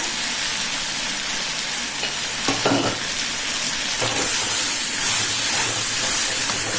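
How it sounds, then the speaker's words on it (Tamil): Chopped tomato, onion and green chili sautéing in oil in a pan for a coconut kurma, a steady close sizzle and fry with occasional stirring scrapes throughout. "இந்த தக்காளி வெங்காயம் பச்சை மிளகாய் எல்லாம் நல்லா வதங்கி வரட்டும்"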